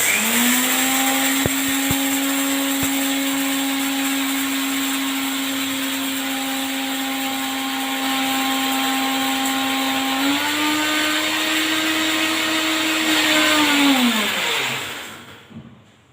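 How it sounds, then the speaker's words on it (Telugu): A mixer grinder whirs loudly and steadily for several seconds grinding sambar powder spices, its pitch shifting once before winding down and stopping. "ఇప్పుడు అన్నీ మిక్సీ పడుతున్నాను"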